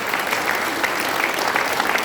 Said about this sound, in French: Et je vous demande d'applaudir ces associations, de vous applaudir, vous qui participez